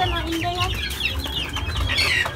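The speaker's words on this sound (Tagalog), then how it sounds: "Maraming manok." Several chickens cluck and squawk in a busy backyard flock, with overlapping calls and a few sharper cries throughout, fairly close and steady.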